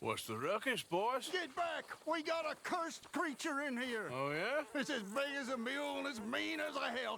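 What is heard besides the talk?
None of the usual background noises is heard.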